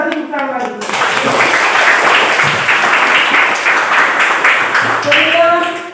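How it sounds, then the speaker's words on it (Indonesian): Clapping from participants at the close of an Indonesian teachers' academic coaching session, a steady burst of many hands that follows brief talk, with a voice returning near the end. "kita tepuk lagi."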